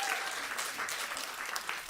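An audience at a chefs' food-justice event applauds a dairy farmer, a dense wash of clapping throughout the short stretch, fairly close and continuous, with no talk over it.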